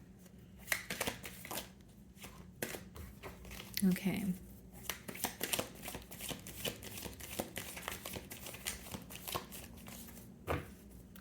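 A deck of tarot cards is shuffled in repeated riffling, slapping bursts close to the listener, with a brief spoken word near the start.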